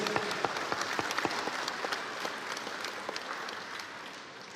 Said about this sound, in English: Big round of applause for our judges.